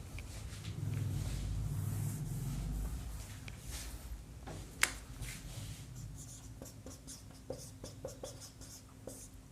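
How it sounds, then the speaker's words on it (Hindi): Chalk or marker scratches across a classroom board during a lesson, with steady scribbling strokes and a few sharper taps, close and fairly quiet. "थोड़ा इसको नीचे लिख देता हूँ"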